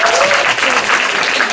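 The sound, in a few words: audience applause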